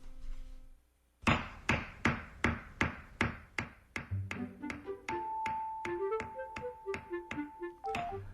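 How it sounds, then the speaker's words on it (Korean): Hammer blows ring out in a steady, evenly spaced series, about a dozen sharp taps of moderate loudness. A brief tonal ping and some clinking ride under the later strikes, with no talking. "저 망치 소리 때문에 집중을 할 수가 없구만"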